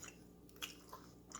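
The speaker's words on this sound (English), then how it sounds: "I like to talk while I'm chewing" Someone chews bread made from a Sword Art Online recipe, with soft, close, moist squishing and a few sharper bite sounds spaced apart in an otherwise quiet room.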